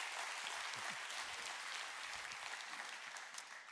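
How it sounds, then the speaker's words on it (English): A church congregation at an Easter service claps enthusiastically in a continuous, dense round of applause that holds steady and fades slightly at the end, with no voices over it. "So I'm going to invite our church now to clap like you mean it."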